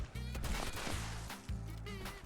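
Gunfire from a weapon in the video game Fallout 76: a few sharp, loud shots in quick succession over a steady low game hum, with no talking.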